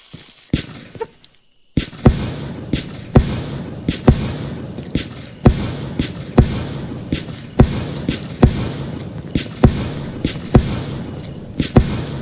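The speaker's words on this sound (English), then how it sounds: "Here's a view of a firework you'll never get" Fireworks burst in the Fireworks Mania video game as a steady run of sharp, loud bangs roughly every half second to second, with crackle and hiss between them and no talk.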